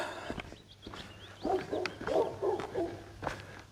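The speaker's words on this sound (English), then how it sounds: "I'll set the dogs off again." Dogs on a countryside walk near Simonsbath, Somerset give a few short barks and yelps at a middle distance over light outdoor background noise.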